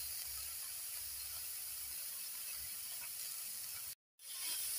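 Eggplant pieces sizzle steadily in a hot pan, seasoned with turmeric and salt, a loud continuous frying hiss that drops out briefly before resuming.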